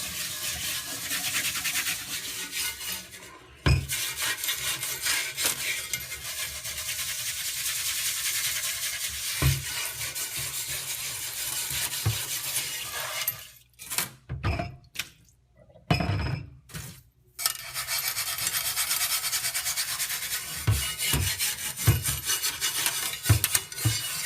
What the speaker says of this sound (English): this video is me using the Ringer stainless steel chain mail cast iron cleaner